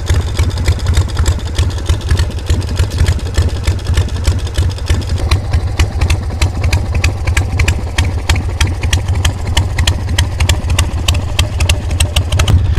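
A motorcycle engine runs steadily nearby, loud and close, with a rapid, even mechanical clatter from start to finish and no voices.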